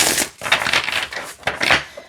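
A large animal-themed tarot deck, nearly double the size of an oracle deck, is shuffled close up, giving a series of quick papery riffles and card slaps in uneven bursts.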